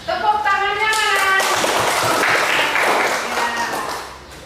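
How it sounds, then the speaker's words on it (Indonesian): A voice speaks briefly, then an audience bursts into clapping after a group presentation, a close and lively patter that holds for a few seconds before thinning out. "Tepuk tangannya mana?"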